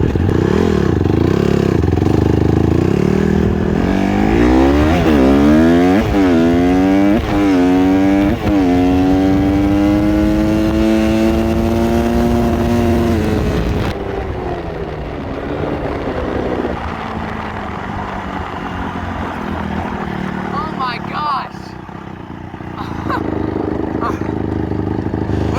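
Dirt bike ridden down a street at around 64 mph, its engine revving loud and close with rising pitch sweeps as it accelerates, then a steady drone mixed with heavy wind rush.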